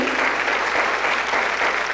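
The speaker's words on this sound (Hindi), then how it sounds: "एक बार जोरदार तालियां होना चाहिए हमारे इस ग्रेट लीडर्स के लिए" An audience claps in a steady, dense round of applause at a training session, sustained and fairly even throughout with no voices over it.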